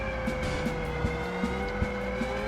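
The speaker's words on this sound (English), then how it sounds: "I thought I heard a whine of a supercharger." A combustion-engined car in the Screw Drivers racing game gives off a steady, high supercharger whine over a constant engine drone, with occasional soft thumps.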